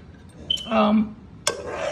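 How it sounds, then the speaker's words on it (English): A spoon scrapes and clinks against a pot while sofrito with garlic, peppers and onions sautés on low heat for Puerto Rican chicken soup: two brief metallic knocks with a short scrape between, near, alongside a voice. "Let me get a different spoon. This one makes too much noise."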